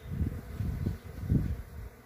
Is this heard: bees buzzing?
yes